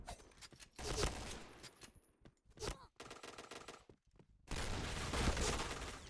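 Gunfire in the first-person shooter game Point Blank, rapid bursts of automatic weapon shots in clusters separated by brief pauses, loud and close, with a dense sustained burst at the end.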